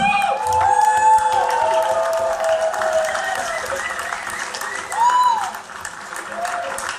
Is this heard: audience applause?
yes